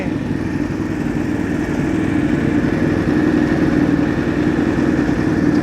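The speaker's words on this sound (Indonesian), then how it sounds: "Dari raungannya aja beda coy. Raungannya idle-nya tinggi." An Aprilia RSV4 race motorcycle idles high and steady, a continuous close engine drone with a slight rise in loudness toward the end.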